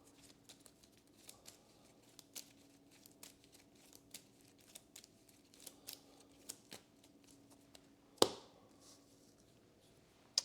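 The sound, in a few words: shuffling a deck of game cards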